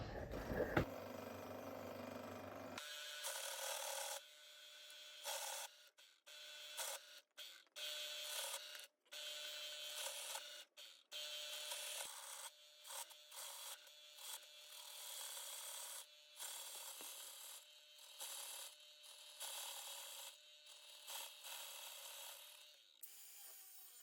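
A metal steering part from an R33 drift car is cut with cutting fluid, giving a long, continuous rasping grind in uneven bursts with brief pauses, loud and close, with no talking.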